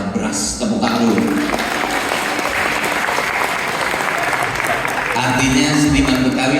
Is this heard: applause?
yes